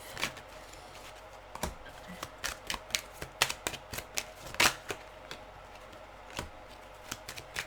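Tarot cards handled and shuffled back into the deck, a run of crisp close flicks and taps in an irregular rhythm over quiet room tone.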